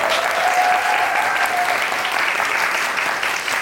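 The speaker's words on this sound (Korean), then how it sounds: "여러분들 큰 박수 부탁드립니다" An audience applauds at the closing curtain call of the musical Gwangyeom Sonata. The clapping is loud, dense and sustained, filling the hall evenly from start to finish, and the crowd cheers faintly beneath it.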